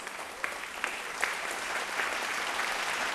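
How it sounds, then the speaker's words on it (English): A live studio audience at a televised vocal competition claps for a sponsor, a sustained, even round of applause with a few louder claps near the start, heard alone without speech. "a massive round of applause, please,"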